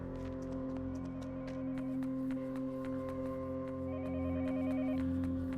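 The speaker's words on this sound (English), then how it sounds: "Phone is ringing again." In the game Yomawari: Night Alone, a telephone trills with a warbling, pulsing ring over a steady droning tonal backdrop, with soft tapping noises scattered throughout.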